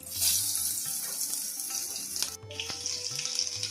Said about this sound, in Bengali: এবার দেব কেটে রাখা পেঁয়াজটা।